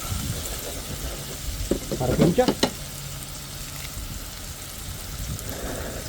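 Dried red chillies fry in hot oil in a pan for a red pork curry, giving a steady low sizzle with a brief burst of louder crackling and stirring clatter partway through.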